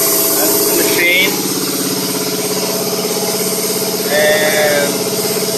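Spray foam insulation rig runs steadily with a constant mechanical drone and a compressor hum, with brief whining squeals rising twice over the steady engine-like noise.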